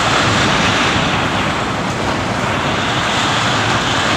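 Strong storm wind roars continuously during a heavy storm at a house in Thung Chueak, a dense loud rushing noise with no breaks throughout.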